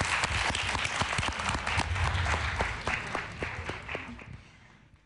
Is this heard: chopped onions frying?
no